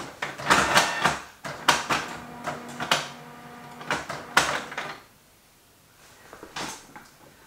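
A Canon inkjet printer struggles to feed a long panoramic sheet of paper, giving several bursts of whirring and clattering mechanism noise, then a quieter stretch with a last faint rattle.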